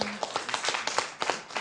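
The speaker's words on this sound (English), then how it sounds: "Give her a round of applause." A small group at a city council meeting claps in brief applause, close and moderately loud, with uneven overlapping claps and no speech.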